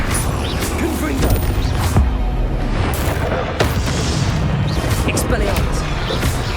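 Confringo spell blasts in Hogwarts Legacy burst one after another amid combat, loud sharp booms and crashing impacts over a constant roar of battle noise.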